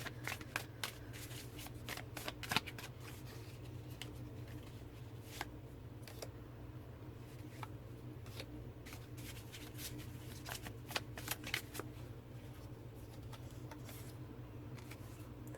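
Tarot cards are shuffled steadily by hand over a low hum, a quiet, continuous riffle-and-slide texture with crisp card snaps scattered through, and no one speaks.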